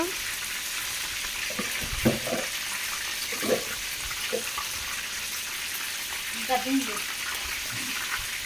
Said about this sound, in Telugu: ఇంకా ఫ్రై అవ్వాలి బాగా